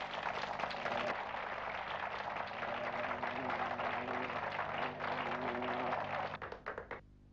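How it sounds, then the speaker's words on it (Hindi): A crowd at a welcoming event applauds artist Gangaram in the village of Gangapur, a steady wash of clapping sustained for about six seconds before it tapers off, with a low hum underneath. "तालियां"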